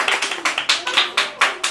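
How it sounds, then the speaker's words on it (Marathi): An audience claps for a team in a school quiz contest, about eight sharp, evenly spaced claps in quick rhythm, close and loud, with no talk over them. "ग्रुप बी साठी टाळ्या वाजवा"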